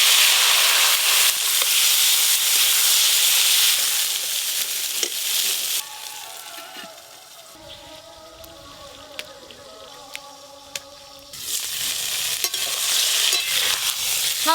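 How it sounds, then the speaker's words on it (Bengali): Salted, turmeric-coated small eggplants frying in fish oil in a pan, a steady loud sizzle that drops to a softer, quieter hiss midway before returning to full strength, with no talking. "সব বেগুনগুলো ভালো করে ভাজা হয়ে গেছে"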